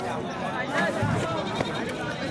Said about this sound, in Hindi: ये नेक्स्ट देसी बकरा गावटी हमारे यहाँ का ब्लैक कलर का उस्मानाबादी महाराष्ट्र की ब्रीड वाला।